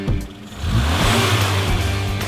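A Mitsubishi Galant with a Saturn 1600 engine, 4-speed manual and rear-wheel drive, revs steadily nearby, a loud mid-pitched engine drone rising slightly and holding without any voices.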